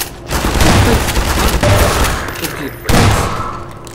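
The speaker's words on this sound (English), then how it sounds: "You want a shotgun to the face?" Shotgun blasts in Half-Life 2 amid combat, loud booming shots and thuds layered over continuous noisy action, with a strong blast near the end.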